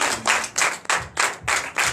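A Sunday worship congregation in Comè, Benin claps in unison, loud rhythmic bursts of hand claps in about six regular pulses with brief gaps between them.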